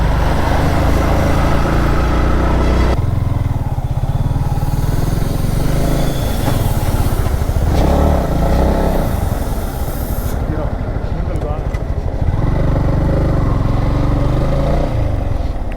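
A motorcycle engine labours loudly and close while struggling to climb a forest road on a Sathyamangalam forest trip near Dhimbam, revving steadily throughout with shifts in pitch, and voices talk over it.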